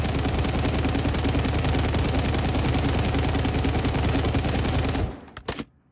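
Sustained automatic gunfire from a video game weapon firing at a wall, a loud, steady rapid stream of shots for about five seconds that cuts off abruptly, followed by a few scattered clicks.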